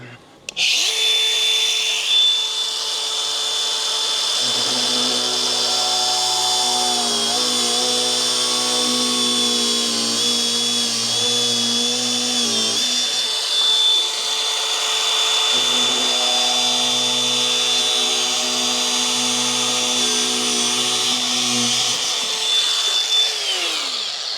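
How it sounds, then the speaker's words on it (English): Angle grinder cutting through the exhaust of a Lexus LS400, a loud continuous high-pitched whine sustained close by for over twenty seconds, its pitch dipping slightly as the disc bites into the metal, with no speech over it. "Grinder will be quicker, I think."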